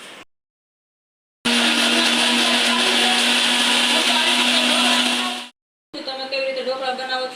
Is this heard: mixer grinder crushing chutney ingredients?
yes